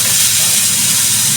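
Onion and garlic sizzling in a hot pan for garlic fried rice, a loud close steady hiss filling the whole moment without pause.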